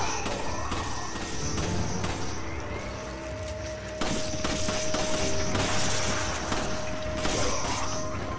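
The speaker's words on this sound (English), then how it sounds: "Oh, I was just trying to shoot for his legs" Gunfire in the co-op shooter Resident Evil 5 sounds as dense rapid shots and impacts layered over game music and a steady tone, with heavier bursts around the middle.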